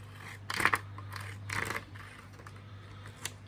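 Scissors snip paper labels for wool in a few close, quiet cuts, with short crisp bursts separated by pauses over a faint background hum.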